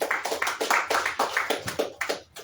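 A crowd claps for secondary school participants at a certificate ceremony, with regular broadband claps building into steady applause for a couple of seconds before trailing off.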